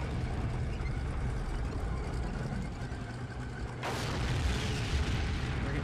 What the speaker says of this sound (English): We're getting shot at by an enemy tank.